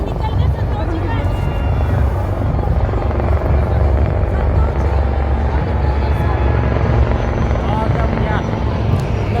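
Army Aviation Rudra helicopters pass overhead in arrowhead formation, a loud, steady rotor roar with dense low thumping that holds throughout, with a commentator's voice running underneath.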